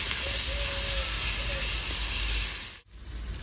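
Chopped tomatoes hit a very hot pan for a fish curry, giving a loud, close, continuous sizzling hiss that drops away sharply near the end, then picks back up.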